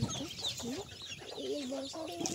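Free-range native chickens of all ages and sizes clucking and murmuring nearby on a large farm, several birds calling over one another in a steady, busy chatter.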